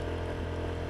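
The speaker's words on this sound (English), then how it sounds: "the poor little motorbike is working overtime to get up this thing" A small motorbike strains uphill on a steep mountain slope in Koh Samui, Thailand, its engine a steady, loud, labouring drone held close throughout.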